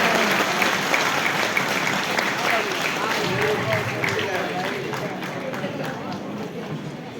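Audience at a community gathering clapping together, a sustained wash of applause close by that gradually thins and softens toward the end, with voices mixed in underneath.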